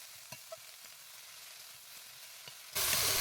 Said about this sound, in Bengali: লবণটা দিয়ে ভালো করে নাড়াচাড়া করতে হবে, যাতে বাঁধাকপিটা গলে অল্প হয়ে যায় বা সেদ্ধ হয়।